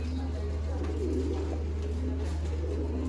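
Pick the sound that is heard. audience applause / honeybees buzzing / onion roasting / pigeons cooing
pigeons cooing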